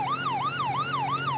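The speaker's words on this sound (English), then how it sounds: "We're going to get our sirens back on." A police car siren wails in the video game GTA 5, a loud close up-and-down yelp cycling about four times in quick, regular sweeps with nothing else over it.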